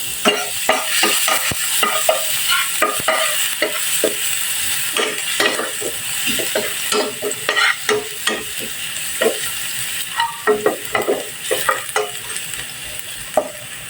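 Garlic fries in hot oil until crispy for a chicken mami noodle soup, with a bright steady sizzle and frequent rhythmic scraping and tapping of a spatula in the pan, close and clear.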